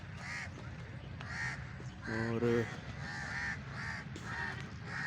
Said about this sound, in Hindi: कौवे बहुत ज़्यादा है यहाँ पे